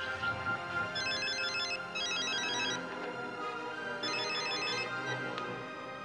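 Electronic ringtone of a phone placing an outgoing call in a 2013 Hindi film scene, repeating trilling bursts in a steady rhythm over a background music bed, close and clear with no talk.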